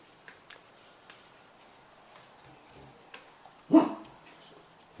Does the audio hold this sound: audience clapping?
no